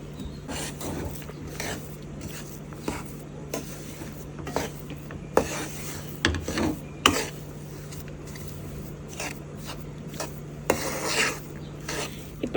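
Cashew pieces are mixed into a thokkudu laddu mixture, giving quiet, intermittent scraping and rubbing strokes with a few soft clinks over a low steady hum.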